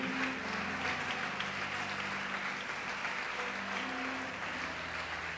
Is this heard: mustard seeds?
no